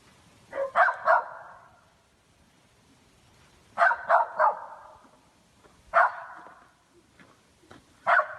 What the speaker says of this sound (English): Their dog ends up escaping and charges toward whatever it is, but then quickly retreats, barking aggressively and clearly shaken.